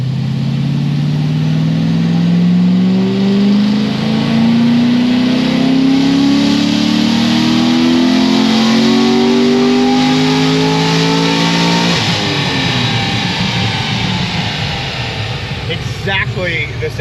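Naturally aspirated LS7 V8 on a dyno pull, its tone climbing steadily through a long loud sustained rev before the throttle snaps shut and the engine falls back with crackling, close and dominant.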